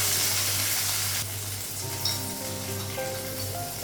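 Cumin seeds sizzle loudly in hot oil in a home Bengali kitchen, a steady close frying hiss with a brief stir partway through.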